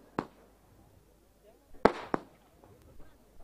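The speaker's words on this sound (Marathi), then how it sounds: "फटाके सुद्धा अतिशय मोठ्या प्रमाणात वाजत आहेत" Firecrackers burst at a local cricket semi-final in Maharashtra, with one sharp crack early and a quick double pop later, set against a quiet background with faint crowd murmur.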